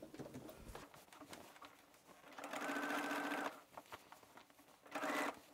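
A sewing machine understitches a seam allowance on a dress in two short, close bursts of fast stitching, with quieter handling noises and pauses between them.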